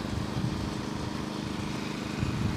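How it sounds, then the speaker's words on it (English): A 36-inch rented power trowel runs steadily over a fresh concrete slab, its engine droning with a constant low rumble throughout, fairly close and without any talk. "There's Al running the power trowel"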